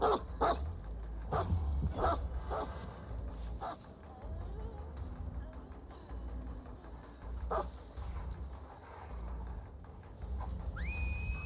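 The Houndmaster's dog in the video game Dead by Daylight gives several sharp barks early on and another later, over dense game ambience and rumbling background noise.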